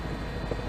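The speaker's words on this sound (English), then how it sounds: "You see HPD's helicopter." A Houston police helicopter drones overhead during a car chase, a brief, dense, low rumbling roar with steady rotor and engine noise heard from a distance.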